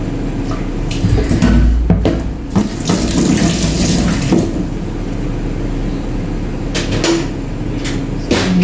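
Tap water gushes steadily into a cooking pot being filled for Filipino chicken soup, a close, bright splashing stream with a few clanks of the pot and cupboard knocks early on.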